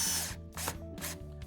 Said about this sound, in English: cordless drill provides a great way for anyone to drive screws with power and accuracy